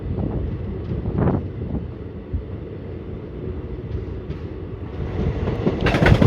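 The Delhi–Jodhpur superfast express rolls along with a low, continuous rumble of wheels and carriages, heard from on board under wind buffeting, growing louder toward the end.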